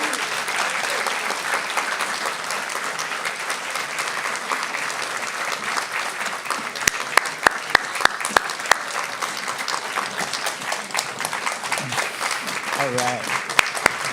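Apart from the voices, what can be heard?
audience applause for storytellers on stage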